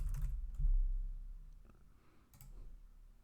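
Computer keyboard keys tapped in a few short, light bursts while entering a name and character type into a React web app, close and quiet with no talking.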